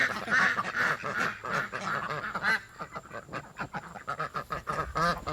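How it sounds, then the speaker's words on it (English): A flock of healthy pet ducks quacking nearby in busy, overlapping bursts, loud and continuous with a steady chattering rhythm and no talking. "The ducks are healthy and we love them."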